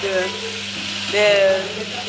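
Tripe and beef pieces being stirred in a sizzling tomato sauce, a close, continuous frying crackle with a soft scrape of the spoon through the pot.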